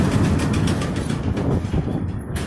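CSX freight train pulling out of Yeoman Yard in Tampa, a steady loud rumble and rolling roar of the cars passing close by, continuous throughout with no voices.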